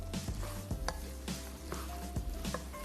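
Mixed vegetable halwa being stirred in a pan, with a soft continuous sizzle and a few scraping, clinking strokes of the spoon against the metal, close and steady throughout.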